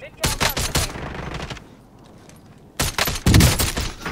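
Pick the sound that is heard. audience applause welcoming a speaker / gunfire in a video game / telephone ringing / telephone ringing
gunfire in a video game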